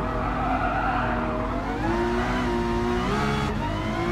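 Tires squeal and skid continuously over a revving engine as a car slides in the Gran Turismo Sport racing video game, loud and sustained with shifting pitch.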